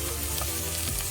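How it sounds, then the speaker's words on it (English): Yellow onions frying in oil in a pan, a dense, continuous loud sizzle close up with no one talking. "I've added a little bit of oil into our pans for us to fry the vegetables. So now we are gonna add onions."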